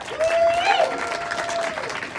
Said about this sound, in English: I just wanted an applause break